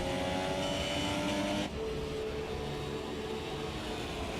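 Race cars in a Formula 1 racing video game, driving at Silverstone's Brooklands section, give a loud, steady engine whine that drops abruptly in pitch partway through, up close and with no voices.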